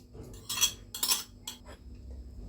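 Vegetarian shawarma being tossed with vinegar, onion, garlic and spices in a bowl, with close clinks and scrapes of a utensil against the dish in a few short bursts, no talking.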